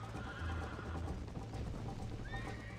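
A horse in the Red Dead Redemption video game gives a couple of whinnies over soft clip-clopping hooves, fairly faint and mid-distance, alone without speech.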